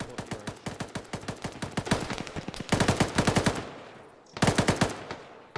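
Rapid automatic gunfire in the military video game Arma, several loud bursts of closely spaced shots with brief pauses between, sharp and close.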